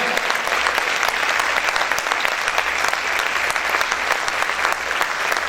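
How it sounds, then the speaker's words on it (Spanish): Steady, loud applause from a church congregation, continuous clapping filling the whole stretch without a break. "Aplaude fuerte al Señor."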